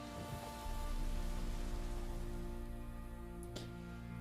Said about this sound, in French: Il pleut, hein.